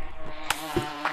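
Bees buzz in the VR game Gorilla Tag, a faint whining drone with a few soft clicks and taps nearby, no talking.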